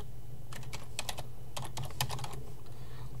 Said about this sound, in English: So if I type in Buildcraft